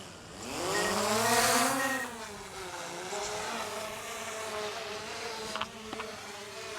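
A DJI Mavic Air 2 drone lifts off close by, its rotors rising into a loud, steady insect-like whine that swells early and then holds an even buzzing drone with slight pitch wavering.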